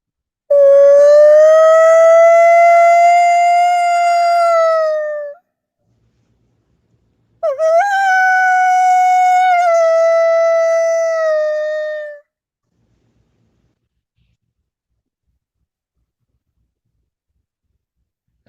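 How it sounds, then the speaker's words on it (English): A predator calling device blares a coyote howl in two long, loud rising-and-falling wails, each several seconds long, separated by a short pause and followed by silence. "He wants to hear the coyote call."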